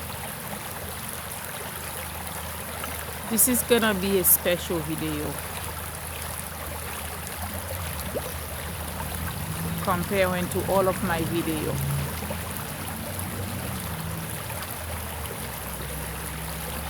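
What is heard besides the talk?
flowing river water, Mill River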